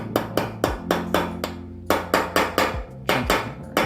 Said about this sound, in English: Gentle hammering.